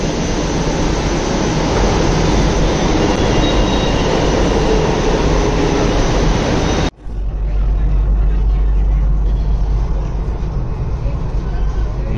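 Loud, steady rumble of a metro train running into a station in Delhi, near Chhatarpur, cutting off abruptly midway before a quieter hum of the platform continues.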